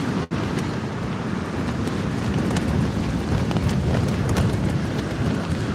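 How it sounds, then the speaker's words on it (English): Wind gusting hard at sea around a fishing kayak, a constant loud rushing buffet across the microphone with a brief dropout near the start, otherwise unbroken. "it's too windy"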